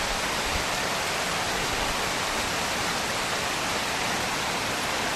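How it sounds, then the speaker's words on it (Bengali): Heavy rain pours steadily over a market street, a dense, even hiss that holds at the same loud level throughout with no pauses and no voices. "ও দেখো কি হারে কিন্তু বৃষ্টি পড়ছে"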